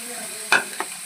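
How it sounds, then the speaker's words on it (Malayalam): Onion, garlic and green chili sauté in a pan, with a soft background sizzle broken by two short stirring scrapes close by. "നന്നായിട്ടൊന്ന് വഴറ്റിയെടുക്കേ ഉള്ളി ഒരു ബ്രൗൺ കളറായി വരുന്ന വരെ നമുക്ക് ഇങ്ങനെ ഇളക്കിയെടുക്കാം"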